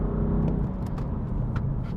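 A 2016 BMW M4 braking hard from about 70 during a brake test, heard from inside the car as a steady, loud low rumble of engine and road noise with no talk.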